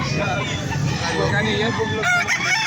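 Gamecock roosters crow loudly and continuously at a fighting-cock sale in Angeles City, several birds overlapping close by amid murmuring crowd voices.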